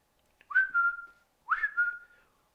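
A person whistles two short rising notes that each slide up and hold before trailing off, clear and close with a brief gap between them and no talking.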